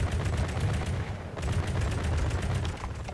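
A fast-fire advanced cannon in From the Depths shoots in quick regular bursts, a rapid thudding rhythm of heavy booming shots, loud and close, with a very short pause partway through.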